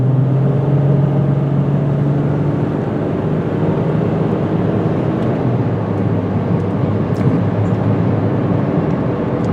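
A 2004 Pontiac Grand Am sedan with a 3.4 liter V6 and four-speed automatic drives along, giving a loud, steady engine drone and road rumble with an early low tone that settles into constant noise.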